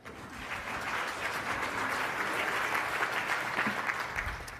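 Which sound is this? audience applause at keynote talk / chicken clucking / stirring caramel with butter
audience applause at keynote talk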